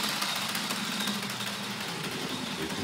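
A Rivarossi model train locomotive runs around a layout with a steady, close motor whir and light rhythmic rattling, alone without talk.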